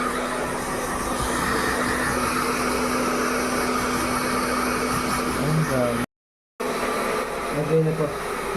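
A handheld hair blower roars steadily while drying a client's hair after a Brazilian blowout treatment in a salon, loud and continuous, cutting out briefly before resuming.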